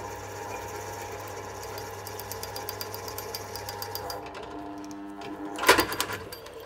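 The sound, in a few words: drill cutting holes in lead tiles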